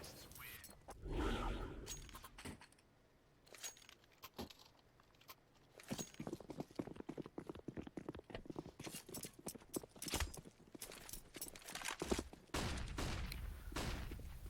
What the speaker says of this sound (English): Pistols, pistols, and more pistols.